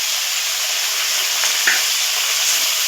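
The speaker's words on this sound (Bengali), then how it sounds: "তেলটা গরম হয়ে গেছে, কাঁকড়াটাকে আমি এবার দিয়ে দিলাম। এবার নুন হলুদ দিয়ে আমি কাঁকড়াটা একটু লাল লাল করে ভেজে নেব।" Crab frying in hot oil with salt and turmeric, a loud steady hiss and sizzle, close up, with one brief sharper spatter partway through and no voices.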